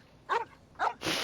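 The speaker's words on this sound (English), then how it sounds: "The dog." A dog in Genshin Impact gives two short, sharp barks close together, followed by a brighter yelp-like sound, all near and clear with no talk.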